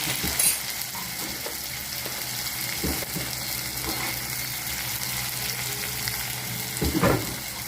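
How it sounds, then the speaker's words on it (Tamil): Chopped onion with salt sautéing in a pan for a banana-flower dumpling curry, a steady soft sizzle with a few louder scrapes and clinks near the end, no talking. "நீல நிலமாக கட் பண்ணி வச்ச வெங்காயம் சேர்த்து நல்லா வதங்கிடுவோம்."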